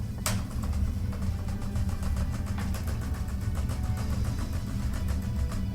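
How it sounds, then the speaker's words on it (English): A rapid series of sharp, evenly spaced electronic zaps of ion cannons firing over a loud, steady low rumble, like a sci-fi weapon volley in a game. "That is the sound of ion cannons firing."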